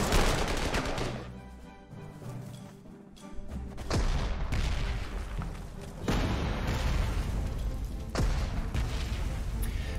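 Artillery shelling in the World War II strategy game Panzer Corps 2: loud, dense booms and crackling blasts follow one another across the span, with sharp impacts near the start, around four, six and eight seconds.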